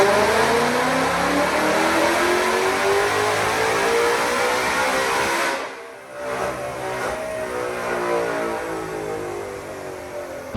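A 2020 Ford Shelby GT500 with bolt-on upgrades and an E85 tune screams on a dyno, its engine revving hard and climbing steadily toward about 8,000 RPM, then briefly dropping off before roaring back at sustained high revs.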